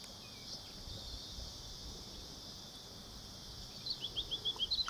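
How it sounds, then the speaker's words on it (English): A steady high insect buzz drones throughout, with a few quick bird chirps near the end, all at a moderate outdoor distance. "Listen to the birds singing and the cicadas buzzing."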